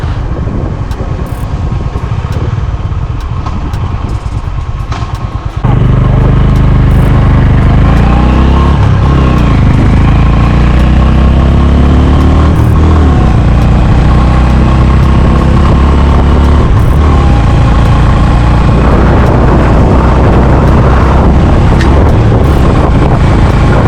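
A Honda H'ness CB350 motorcycle rides on the highway. Its engine drone sits under heavy wind buffeting and grows louder and fuller after a few seconds as the ride goes on.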